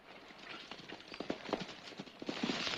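Rapid hoofbeats of several horses thud and clatter over soft ground in a 1965 Western TV series, a busy galloping rhythm that grows slightly louder toward the end.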